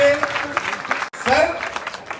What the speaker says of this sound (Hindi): जोरदार तालियां बजाओ ऐसी व्यवस्था के लिए।